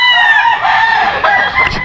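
At a poultry farm, a rooster crows loudly and close by while chickens cluck around it in a short, busy burst.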